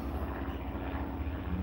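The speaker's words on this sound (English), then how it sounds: "here comes the helicopter" A helicopter passes overhead, producing a steady, moderately loud rotor and engine drone with a low rhythmic thump that lasts throughout without speech.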